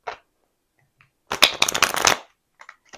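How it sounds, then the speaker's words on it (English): Tarot cards are shuffled in one quick, crisp riffling burst lasting under a second, close and clear against near silence, with a few faint card flicks before and after. "Let's do one more clean shuffle"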